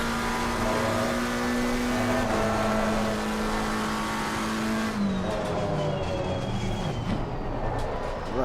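A race car engine in Assetto Corsa Competizione at Silverstone holds a steady high-revving drone, then drops pitch as the revs fall under braking, loud and continuous with no talk.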